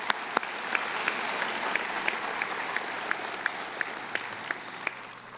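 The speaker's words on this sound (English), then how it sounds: "Another round of applause for Zach" Graduation audience applause at a high school commencement ceremony, a broad sustained wash of clapping from the crowd at a steady level, with a few sharper individual claps standing out.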